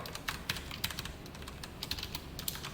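Computer keyboard keys are typed at a quick, uneven pace, giving a string of soft close clicks and taps over a faint room hum.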